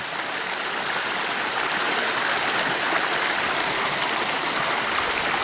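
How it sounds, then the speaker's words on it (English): Steady rushing stream water, a constant broadband wash with a gurgling texture, close by and uninterrupted. "Once again, listen to the water singing."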